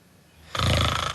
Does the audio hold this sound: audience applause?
no